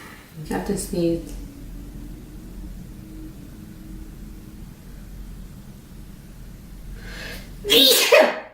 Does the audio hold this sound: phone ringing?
no